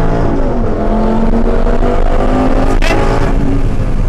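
A Lamborghini Superleggera's engine roars loud and close, revving hard under acceleration with a brief dip and surge at a gear change near the end, no talk.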